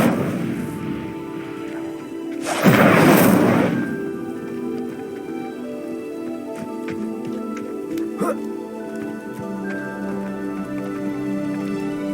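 Incendio fire spell cast in Hogwarts Legacy, a brief loud whooshing burst of about a second, set against steady ambient game music and faint clicks.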